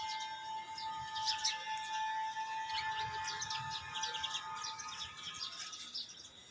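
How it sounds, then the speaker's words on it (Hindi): A flock of house sparrows chirps continuously, many overlapping bright tweets at moderate distance forming a busy, steady chatter over a faint outdoor background with a thin sustained tone running underneath. "ये था गौरैया पक्षियों का जमघट जो बहुत समय के बाद देखने को मिला"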